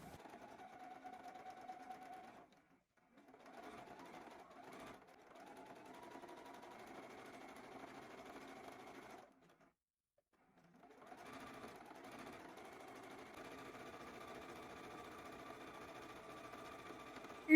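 Sewing machine running a straight stitch near the edge of a ruffled croissant-shaped bag, steady mechanical whirring in three bursts separated by short pauses, close and moderately quiet.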